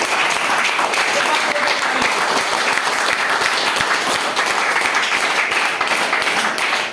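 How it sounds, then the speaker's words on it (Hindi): An audience at a motivational talk gives loud, sustained applause, a thick even wash of clapping from many hands that holds steady throughout, with some voices underneath. "आए हुआ जोरदार ताली हो जाए एक बार।"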